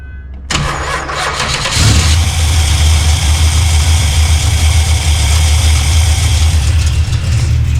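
Car engine fitted with an Edelbrock (Carter) AFB/AVS carburetor starting up: a brief cranking burst, then it catches into a loud, steady idle that holds to the end.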